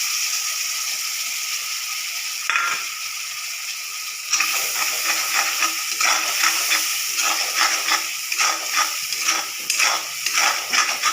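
Spice paste sizzling and frying in a hot wok (kadai) for a Bengali boroli fish curry, with a steady crackling hiss and a sharp louder burst of sizzle as the paste goes in, then stirring scrapes throughout.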